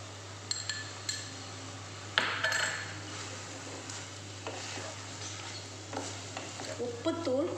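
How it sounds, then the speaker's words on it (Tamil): A spoon stirs a mango mixture with ground chili paste in a pot, giving soft scraping, a faint sizzle and occasional clinks against the vessel, with a steady low hum underneath. "இது இந்த மாதிரி கிண்டிக்கணுங்க"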